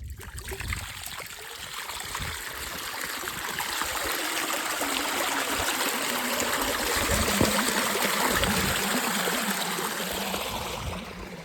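Irrigation water rushes through a farm channel once the plug is pulled, a steady gurgling flow that swells after a couple of seconds and keeps streaming close by.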